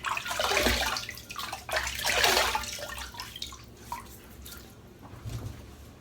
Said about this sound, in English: So let's wet the face.